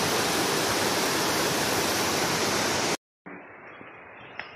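A big river rushes loudly along a jungle trail near Lata Makau, Kuala Kubu Bharu, a steady broadband roar that cuts out abruptly, then returns much quieter and more distant with faint small noises.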